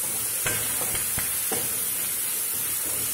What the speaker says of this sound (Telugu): టమాటా మగ్గుతుంది